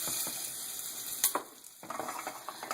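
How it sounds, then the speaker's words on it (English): Shrimp sizzle in a hot pan with garlic, a steady close frying hiss broken by a few sharp clatters and stirring bursts as they are moved around, with no talk. "now I'm going to go ahead and pop my shrimp in there."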